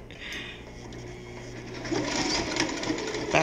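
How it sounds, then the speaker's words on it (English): A sewing machine stitches a fabric mask, running in a steady continuous whir up close that grows slightly louder toward the end, with no talking. "I will lower my boot and I will begin to sew"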